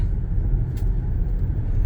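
A combustion-engine car driving, with a low, steady engine and exhaust rumble and road noise dominating, close and continuous with a brief higher hiss partway through.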